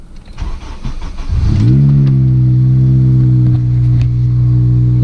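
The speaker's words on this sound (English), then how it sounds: "So now let's hear the cold start." An Acura RSX Type-S engine with a cold air intake and a malfunctioning Skunk2 exhaust cranks over briefly on a cold start, catches, then settles into a loud, steady idle that hums on without pause.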